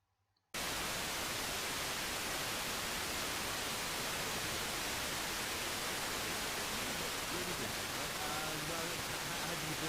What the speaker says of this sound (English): This is BBC Radio Wales, Aircraft Scatter, getting stronger.